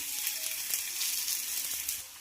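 Thalipeeth, a mixed-flour flatbread, laid on a hot griddle, giving a close steady sizzle with a few faint taps, no talking.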